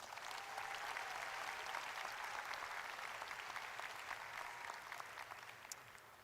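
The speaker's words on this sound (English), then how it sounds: "So please, let's give us a big round of applause." A graduation audience at an adult high school ceremony claps steadily and loudly for the whole stretch, a dense, even wash of many hands with no voices over it.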